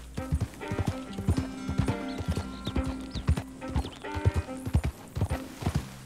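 Horse hooves clip-clopping along a path in Red Dead Redemption 2, a steady close trotting rhythm of sharp, hard hoof strikes with a brief snort or whinny mixed in.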